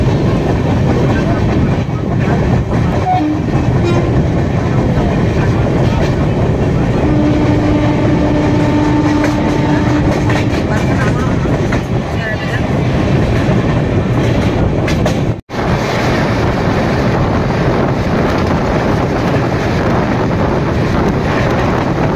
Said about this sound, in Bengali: শুধু ট্রেন যাচ্ছে